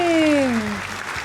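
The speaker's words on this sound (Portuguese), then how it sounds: "Palmas pra gente!" Brief studio audience applause on a cooking show, a soft wash of clapping heard under a speaking voice.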